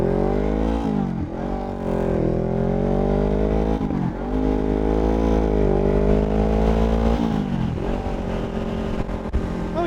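A Honda Rebel 500 motorcycle accelerates hard, its engine note climbing steadily through the gears with brief dips at each shift, loud and close with no talk.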